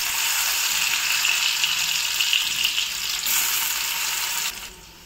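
Potatoes dropped into hot mustard oil fry with a loud, dense, continuous sizzle close by, then the hiss drops away abruptly near the end; no one speaks.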